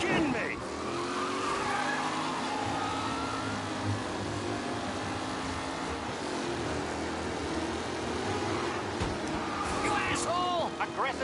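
Race cars in the Mafia video game skid and scrape, with tire squeals and revving engines over several seconds while a commentator talks throughout.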